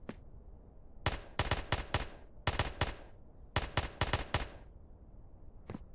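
Rapid bursts of video game gunfire, loud and crisp, firing in several quick clusters of four to five shots separated by short pauses, with one final lone shot.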